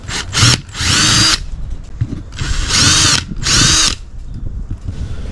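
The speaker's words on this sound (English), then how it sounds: "I'm stepping up the holes here and these plates on the 4 corners to match the holes in the bumper" A power drill steps up the holes in steel mounting plates at the four corners of an aftermarket bumper on a JL Jeep Wrangler, with three loud close bursts of high whining bit-on-metal cutting separated by brief pauses.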